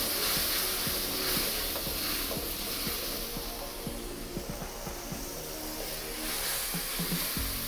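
Chili sauce stir-frying in a hot pan for Thai clams, a continuous loud sizzle with scraping and stirring knocks underneath, close by.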